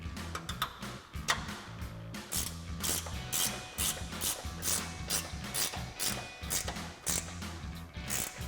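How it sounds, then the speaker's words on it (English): A 15mm ratcheting S wrench clicks rapidly while tightening the upper strut mounting nuts on a 2021-2025 Ford Bronco during a lift kit install, in repeated close bursts of pawl ratcheting. "we're going to use a 15mm ratcheting S wrench"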